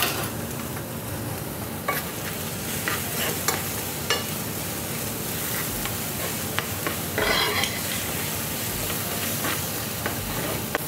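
Coarsely crushed fresh almonds fry with shallots in a pan, giving a steady close sizzle and hiss broken by intermittent scraping stir sounds.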